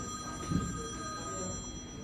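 A telephone rings somewhere in a room, its steady bell-like tone carrying at moderate level through faint background noise, with a brief low bump of activity nearby.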